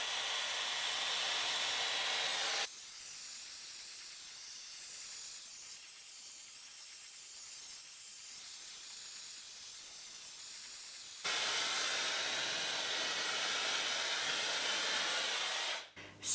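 A hair dryer blowing hard on bleached fine hair, a steady loud airy hiss that drops to a muffled lower roar when the airflow is blocked, then returns at full strength before cutting off.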